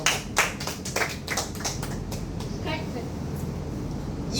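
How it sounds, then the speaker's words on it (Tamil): A class of students claps together in a classroom, with a burst of scattered hand claps in the first two seconds that fades into room noise and voices. "கைத்தட்டு கொடுத்துருவோம்."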